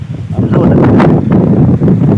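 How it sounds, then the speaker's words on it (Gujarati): Strong cyclone wind roars past the microphone outdoors, a loud, continuous low rumble with gusty swells and faint rustling, unbroken for the whole stretch. "ફૂલ વાવાઝોડું અત્યારે સાથે પવન ફૂંકાઈ રહ્યો છે"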